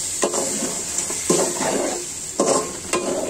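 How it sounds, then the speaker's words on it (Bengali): A spoon stirs a pumpkin and rui fish curry with blended onion and garlic in a pan, giving several distinct scraping strokes over a steady sizzle, close and without talk. "নেড়ে দিব"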